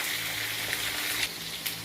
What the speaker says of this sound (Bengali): এই যে বেগুনটা এবারে ভাজা ভাজা হয়ে যাচ্ছে